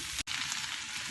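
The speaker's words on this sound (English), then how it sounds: "You can probably hear it sizzling away." Special fried rice sizzles in a hot pan as it is stirred and tossed, a steady close hiss with crackling texture and a brief break near the start.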